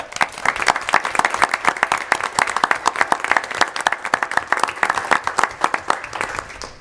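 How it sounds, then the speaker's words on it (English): Round of applause at a school board meeting, a room of people clapping steadily and briskly for several seconds, close and clear with little talk. "I think we should give Nils a round of applause."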